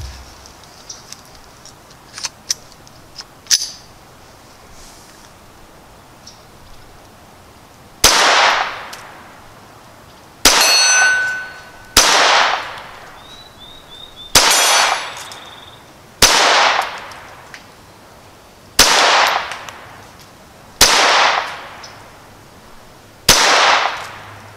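Browning Buck Mark Medallion pistol shots ringing off a hanging steel gong at 40 yards, about seven sharp cracks each followed by a bright metallic clang, evenly spaced every couple of seconds after some faint ticks at the start.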